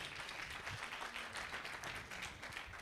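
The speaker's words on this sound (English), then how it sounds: "Big round of applause to you." Steady applause from a crowd at a fundraiser and birthday celebration for donors, a dense, even wash of many hands clapping with no pauses.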